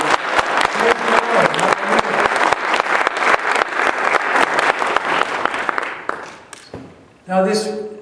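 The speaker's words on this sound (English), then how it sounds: "Let's give him another great big clap." A church congregation at a Passover teaching claps loudly and fast for about six seconds, then the clapping thins and fades out, and a voice begins speaking.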